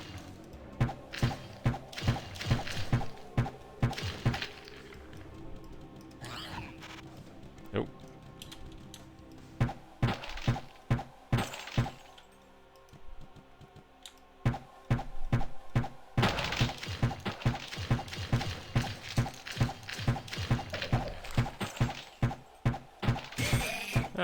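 Barrels shot and smashed in Diablo with the Belzebub mod, heard as a long run of sharp, repeated thunks and cracks in quick rhythm, some in dense bursts, mixed with game sounds and occasional talk.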